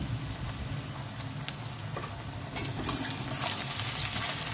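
Food sizzles and is stirred in a frying pan with onion and salt, a steady crackling hiss with scraping strokes that grows louder and brighter toward the end, with no talk.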